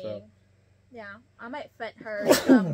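One sharp, loud sneeze bursts out at the end of a short exchange of conversational speech in a quiet indoor space.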